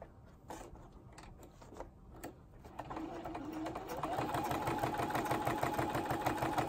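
A sewing machine quilting a pillowed acrylic-painted pineapple piece, starting with a few scattered stitches and then running as a steady, rapid mechanical chatter that grows louder and continues close by.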